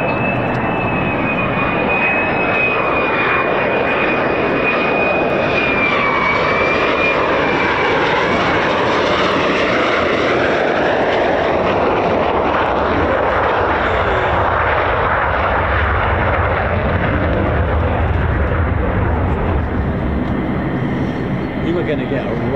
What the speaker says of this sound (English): So F-35s, F-15s and F-16 Fighting Falcons as well, just coming up.